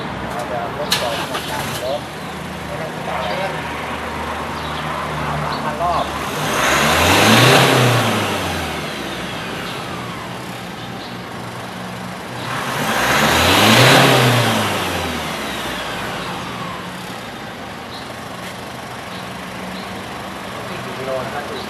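A fairly new Isuzu 1.9 car engine that is slow to gain revs is revved twice from idle, each rev swelling up and falling back, with a steady idle in between and no voices.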